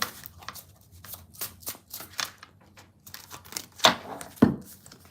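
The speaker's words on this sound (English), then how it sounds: "I'm gonna shuffle 2 more times." A deck of cards is shuffled by hand in quiet, short bursts of riffling and flicking, followed by two sharper snaps near the end.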